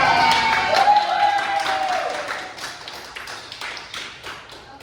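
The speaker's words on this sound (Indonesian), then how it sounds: "Tepuk tangan Pak" A small group in a classroom lesson on the folk tale Malin Kundang claps briefly, with loose, scattered hand taps close by and a voice at the start. The clapping thins out toward the end.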